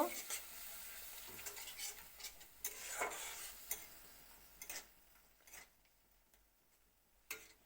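Chili-laced spice paste frying in a pan for a Chanderi fish and Malabar spinach dish, with a steady faint sizzle broken by scattered stirring scrapes and light clicks of a utensil against the pan, no talking.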